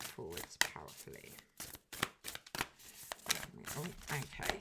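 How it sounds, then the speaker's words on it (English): Tarot cards are shuffled by hand in quick, crisp riffling bursts and soft slaps, close and fairly quiet, and a voice talks over part of it. "So I'll shuffle that again."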